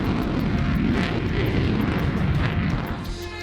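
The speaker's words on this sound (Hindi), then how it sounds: "तेजस, सारंग और सूर्य किरण ने आसमान में अपने करतबों से लोगों का मन मोह लिया।" Indian Air Force Tejas light combat aircraft, Sarang helicopters and Surya Kiran aerobatic jets performing a flypast display, heard as a loud, continuous low roar and rumble of engines overhead throughout.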